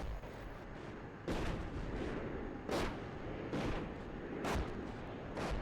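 Artillery fire in the tank simulator game Steel Beasts Pro PE: distant booming impacts roll in at irregular intervals, about four heavy thuds over a steady low rumble.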